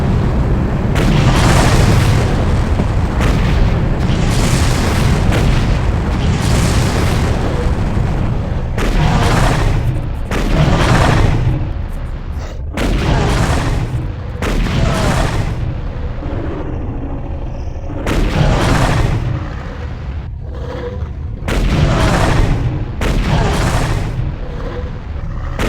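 Loud gunfire and explosions from a Far Cry video game fight, with repeated sharp booming bursts in irregular clusters, some close and heavy, others in quick volleys, separated by brief lulls and mixed with game voices.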